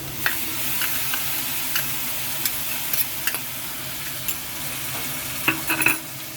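Ground capsicum frying in a red tadka for paneer pav bhaji, a steady soft sizzle beneath repeated clinks and scrapes of a spoon stirring the pan, close and without talk.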